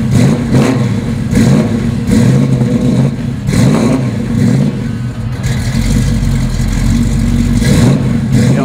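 A 1969 Chevrolet Camaro SS 350 convertible's V8 engine running close by, with a series of rhythmic revving surges and a deeper, steadier rumble toward the end as the car pulls away.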